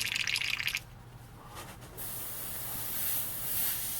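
A paint spray gun being back-flushed while mixing automotive paint: a loud sharp hissing spray bursts for under a second, then a quieter airy rush that swells again and keeps going steadily.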